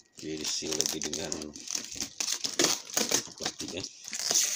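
Plastic wrapping being unwrapped while unboxing a Mach Frame kit, crinkling in bursts that are close and interleaved with a person talking.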